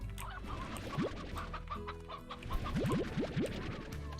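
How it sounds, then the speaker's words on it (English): Chickens in a coop in the Slime Rancher video game cluck repeatedly in short bursts, with a cluster of quick rising chirpy calls near the end over a busy background of game sounds. "There is a limit to how many chickens can be in a coop."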